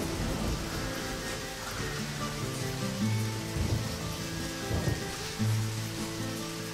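Rain falling in the video game Deadly Premonition, a steady broadband hiss of moderate loudness with a low droning hum underneath and a few brief thumps scattered through.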